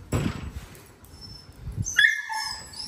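A dog sniffs around and gives soft, high whimpers and yips, most clearly in a short whining burst near the end, with faint rustling and snuffling underneath.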